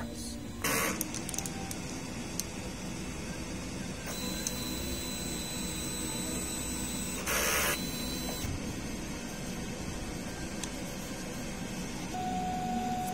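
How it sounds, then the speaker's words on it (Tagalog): DTF printer running a strong head clean cycle, giving off a continuous mechanical whir and hum with short bursts of louder noise and occasional beeps. "Printer head, mag head clean po tayo. Pindutin na natin head, strong"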